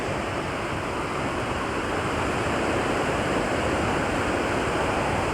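Heavy creek water rushing after rain in misty bush, a steady broadband roar that fills the clip without pause, loud and close with no voices.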